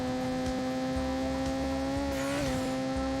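Rotary-engined car in Need for Speed Underground Rivals, a steady buzzing engine drone that holds an even pitch and then dips briefly near the end, loud and continuous with no talk.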